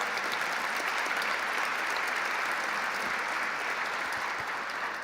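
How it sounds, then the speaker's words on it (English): Broad, steady audience applause fills a hall during a New York governor's address, a dense wash of clapping holding evenly from start to finish with no voices over it. "Let's give Bill Rudin a round of applause for his service."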